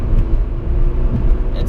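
A new car accelerates hard in third gear from about 40 mph, its engine giving a loud, steady roar with road and wind noise close around the cabin, with no break for the whole short stretch.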